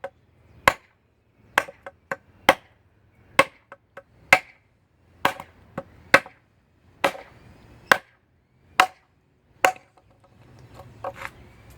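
A Tops Overkill Bowie knife chops into hickory hardwood in about a dozen sharp, separate woody thwacks at an irregular, unhurried pace, close and clear, with quiet pauses between strikes and no talking.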